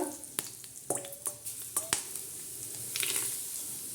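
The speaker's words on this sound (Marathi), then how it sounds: "असं सर्व तेल आपण टाकणार आहोत तर या पद्धतीने तेल असं टाकून घ्यायचं आणि गरागरा असा मसाला हलवायचा" Oil poured over a homemade pickle spice mix of garlic, black pepper and cloves, then stirred, with sharp scraping clicks and taps from a spoon, followed by a low steady sizzle near the end.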